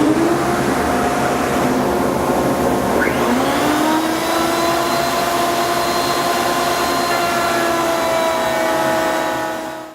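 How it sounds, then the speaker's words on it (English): A router fitted with a 1/2 inch bit cuts rabbet notches in the back section of a wooden chest of drawers, a loud steady motor whine that dips briefly as the cut begins, then runs on evenly and fades at the end. "I'm just going to go ahead and cut those notches for the back panel now"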